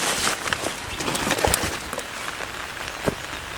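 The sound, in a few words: rain falling outdoors in the forest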